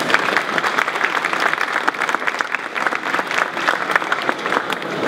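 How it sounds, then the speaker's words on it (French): An audience at a conference panel on the future of sound engineering breaks into sustained applause, a dense, steady clapping crowd lasting several seconds, close and loud, with no speech. "je pense qu'on peut les applaudir"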